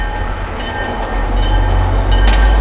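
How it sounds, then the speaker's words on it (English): A Pan Am Railways test train passing close by, a loud steady rumble of rolling wagons and wheels on track that builds slightly toward the end, with no talking. "I'm actually waiting for that test train to come."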